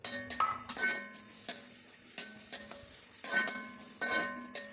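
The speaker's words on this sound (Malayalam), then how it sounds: "കൊത്തി അരിഞ്ഞ ഇഞ്ചി നമ്മൾ അതിനകത്ത് ചേർത്തു." Chopped ginger stirred through hot oil in a pan for a rambutan pickle, with repeated scraping and clinking strokes of a spoon against metal over a steady sizzle, close and fairly loud.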